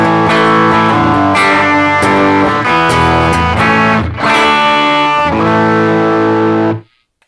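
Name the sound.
electric guitar with overdrive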